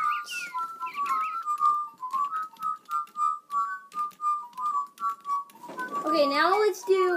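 Electronic toy birds whistle the wedding march in short, evenly spaced notes, followed by a burst of warbling trills.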